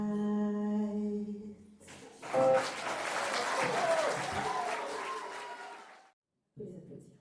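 Audience applause after a song at a Telethon 2024 charity show, a loud continuous clapping burst lasting several seconds that fades out as the music ends, with a brief restart at the close.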